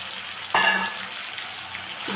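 Chicken sautéing in a pan as ground spice paste is added, a sudden sharp sizzle that flares up and then settles into a quieter, steady frying hiss.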